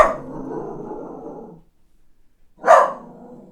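A dog barks close by, first in a sustained run of rough barks, then after a short pause a single sharp, loud bark, with no talking.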